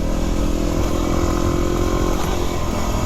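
A Yamaha WR250R dual-sport motorcycle engine drones loud and steady while riding, a continuous mid-pitched roar with constant wind and road noise throughout.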